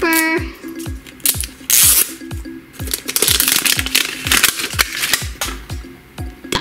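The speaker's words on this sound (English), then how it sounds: "Open up that zipper." A series of quick ripping, rasping strokes of a zipper being pulled open on an LOL Surprise toy ball, repeated several times close by, with irregular clicks and rustling between them.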